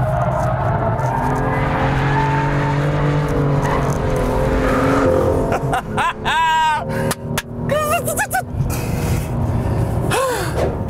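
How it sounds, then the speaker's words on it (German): A Lexus LS 400 with a V8 engine is driven hard on a private parking lot, its engine roaring loudly and steadily up close while tires squeal in repeated bursts near the end. "hier auf dem privaten Parkplatz von Toyota dürfen wir den V8-Motor, den LS 400, ein bisschen genießen"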